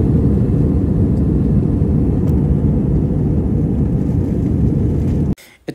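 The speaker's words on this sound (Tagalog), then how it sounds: "hindi na nare-record yung audio ko dahil sa sobrang ingay sa loob ng eroplano" Loud, steady roar inside an airplane cabin during a flight from Manila to Osaka, a dense low rumble filling the space that cuts off abruptly near the end.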